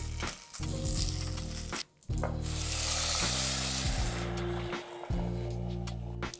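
Chicken vegetable curry sizzles loudly and steadily in a pan, a continuous frying hiss broken by a few brief dips where the food is stirred.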